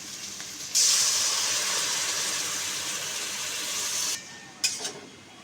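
Water poured into hot masala frying in oil for an okra (bhindi) curry sets off a loud, rushing steam hiss. It lasts about three seconds, cuts off abruptly, then gives a brief sputter close by.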